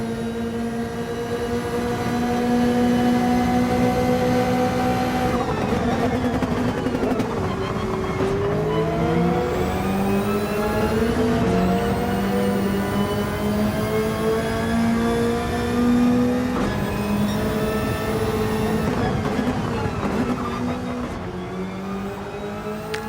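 Race cars in Gran Turismo 7 with a Subaru passing, loud high-revving engines climbing through gears in repeated rising whines, cutting off sharply at each shift, closely overlapping as they pass.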